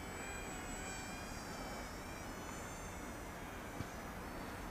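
A Z51 Predator beginner RC airplane flies overhead, its steady, fairly faint motor whine holding constant above broadband wind-like noise, alone with no talking.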